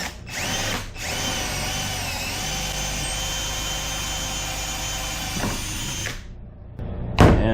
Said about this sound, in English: So I'm just gonna drill through all of this now.